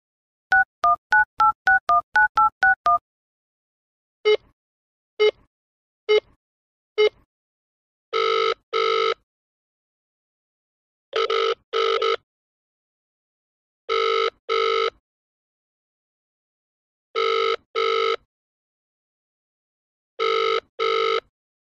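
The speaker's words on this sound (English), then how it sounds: "Nandita, dial the number." A telephone number is punched in as a quick run of keypad tones, followed by a few single beeps and then a repeating double-pulse ringing tone at steady intervals.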